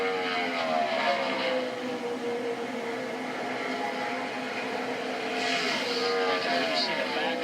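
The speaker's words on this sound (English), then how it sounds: "You see the back end of Larson's car come around on the entry." A NASCAR Cup car laps Michigan International Speedway in 2017 qualifying, its loud engine howl rising and falling in pitch as it passes, with announcers talking over it.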